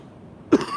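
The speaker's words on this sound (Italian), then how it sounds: "Scusate, è presa la tosse" One sharp, close cough bursts out after a short stretch of near silence, a single loud throaty hack that fades quickly.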